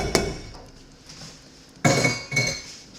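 White and brown sugar get mixed in a pot, with a sharp metallic clink from a utensil followed by a pause, then a couple of louder scraping clatters against the pot near the end.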